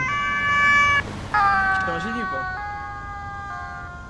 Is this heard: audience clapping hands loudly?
no